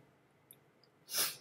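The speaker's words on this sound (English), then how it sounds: "I don't know why I'm sniffing" A single sharp nasal sniff from one person, quiet and close, over a faint room background with no talk.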